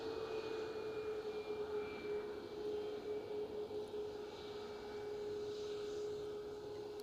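Boeing 737 MAX 8-200 jet airliner at Edinburgh airport, a steady broadband engine roar with a sustained whine, heard from a distance outdoors and holding at a constant level with no talk over it.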